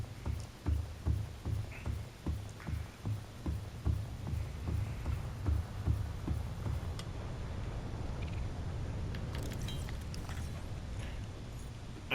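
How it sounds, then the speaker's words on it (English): Footsteps in Subnautica, a steady run of about a dozen evenly spaced heavy thuds, close and clear, then fading into a low rumbling wash. "It's nice that they added the sound of your footsteps."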